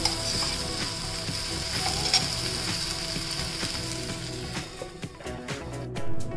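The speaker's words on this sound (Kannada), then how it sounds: "ಮಾಮೂಲು ರೊಟ್ಟಿ ಥರನೇ ಎಣ್ಣೆ ಹಾಕಿಬಿಟ್ಟು ಮುಚ್ಚಿ ಬೇಯಿಸ್ಕೊಳ್ಳೋದು" Ragi rotti cooking in oil on a covered pan: a steady, moderately loud close sizzle that thins toward the end with some light clicks and clatter, no voices.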